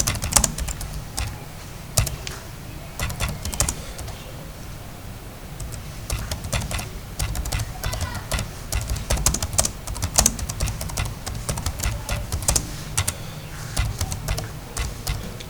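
Typing on a computer keyboard: steady, close clicking keystrokes with uneven rhythm and occasional harder taps, continuing throughout with no voices.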